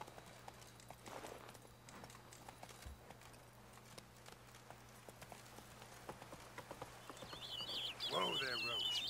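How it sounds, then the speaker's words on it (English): Hooves of a horse in The Witcher 3: Blood and Wine clip-clop at a steady trot throughout, with birds chirping near the end. "Whoa there, Roach"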